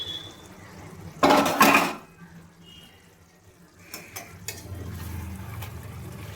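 A lid comes off a pot of cooking chicken with a loud metallic clatter, followed by quieter clinks and handling noises in a kitchen, close by and with no talk.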